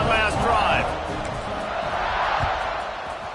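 A stadium crowd roars and cheers during a Tennessee Volunteers versus Colorado Buffaloes kickoff in College Football 26, a steady wash of noise from a big crowd, with a commentator's voice talking over it.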